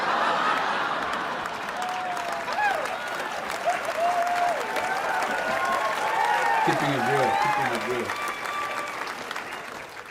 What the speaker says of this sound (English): there's a lot of you clapping